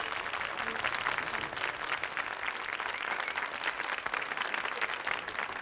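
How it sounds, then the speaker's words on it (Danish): Applause from the audience for the winner of Dansk Melodi Grand Prix 1979 fills the room, a dense and steady burst of clapping from a large crowd with no voices on top. "vi skal give Tommy et bragende bifald igen, som vinder af Dansk Melodi Grand Prix"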